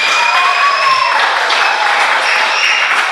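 Studio audience applause and cheering at a live church-related TV broadcast, a steady dense wash of clapping with whistles and ululation-like cries running the whole time, loud and close.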